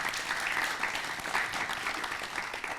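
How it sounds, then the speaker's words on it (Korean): Sustained, even applause from the audience at a National Assembly forum on a special law for landlocked North Chungcheong, steady and unbroken throughout with no talking. "박수 한번 쳐주시기 바랍니다"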